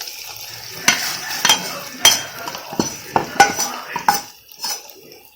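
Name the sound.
mixing tempering into venpongal in a pot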